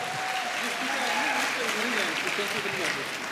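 Loud, steady applause from an audience at a wellness business seminar fills about three seconds, with a voice and faint tonal sounds running over it.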